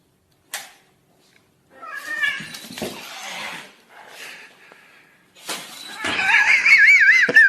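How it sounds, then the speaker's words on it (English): A cat meows several times, with close, loud cries and drawn-out yowls separated by brief pauses, the last one rising into a long, wavering wail. "The cat."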